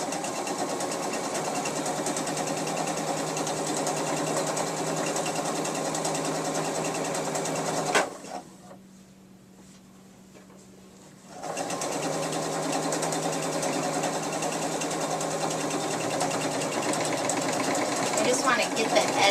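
Sewing machine stitching a sweater cuff for a thrift store sweater Christmas stocking, a loud continuous whirring drone that stops for a few seconds and then resumes.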